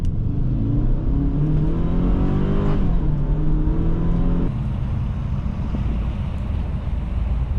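A 2005 Subaru Outback 2.5 XT accelerates steadily on a test drive, its engine note climbing through the gears with a shift near the middle and a continuous loud drone, close and alone with no talk.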